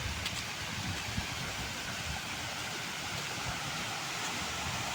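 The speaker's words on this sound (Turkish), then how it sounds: "Dikenler sarmış orada bir şelale var." A countryside waterfall overgrown with thorny brambles gives a steady, broad rushing wash of falling water, continuous and even throughout with no voices.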